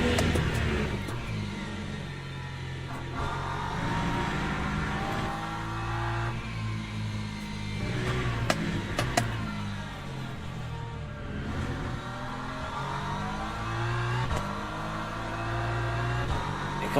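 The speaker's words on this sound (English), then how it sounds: "Here comes the LMP2 leader coming through." An LMP2 race car in the Le Mans Ultimate sim at Portimao howls through repeated rising and falling engine sweeps as it works through the gears. The car stays loud and close throughout, with no speech.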